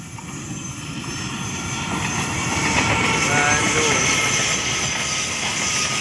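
Stainless-steel trainset on a special transfer run passing close by in Indonesia, a steady loud rumble of wheels and engine that swells and holds throughout, with no talk over it.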